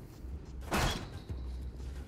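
Door opening in the Haze video game, a short mechanical slide with a burst of hiss and a thud near the middle, over low background hum.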